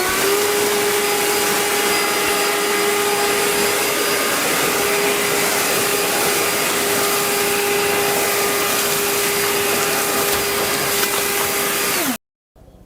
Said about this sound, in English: it seems less loud on the ears than every other blower I've used